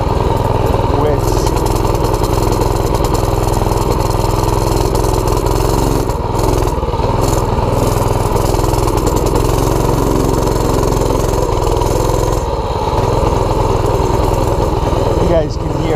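A Big Block Doodle Bug minibike engine runs steadily off-road with the choke on, a loud continuous buzzing drone that holds for the whole stretch and dips only briefly now and then, with a voice talking over it.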